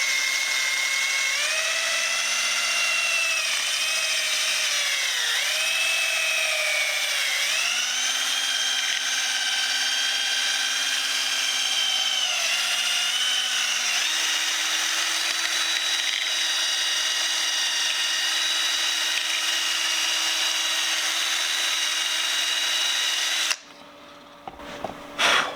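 A bolt wrapped in steel wool spins in a power drill, used to clean up an old Footprint wrench, making a loud, steady high whine and scrubbing rasp that dips in pitch under load and then stops abruptly near the end.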